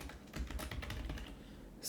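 Fast, close keystrokes clatter on a computer keyboard as code is typed, a quiet, even run of clicks with no talk.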